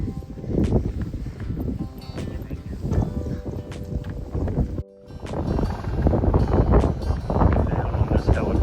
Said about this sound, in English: Since we started getting in some elevation up here in the Pyrenees, it just got very windy.